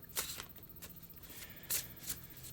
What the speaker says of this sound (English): it's always been easier for me to shuffle with my left hand